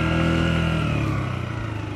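A nearby motorcycle taxi engine hums loudly and steadily, then gradually eases off as it slows to arrive.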